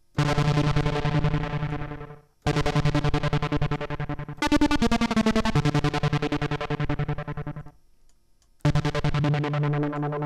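Modal Electronics Craft Synth plays with a delay effect switched on: several bursts of rapidly repeating, echoing synth notes, each phrase trailing off before the next starts, loud and with no voices.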